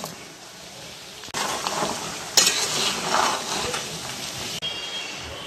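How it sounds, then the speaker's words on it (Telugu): Fish pieces fried in ginger garlic paste in a pan, a steady sizzle with a few louder scraping stirs and utensil knocks, close and continuous without talk. "దీంట్లో వేయించుకుని ముక్కలు వేసుకోవాలి"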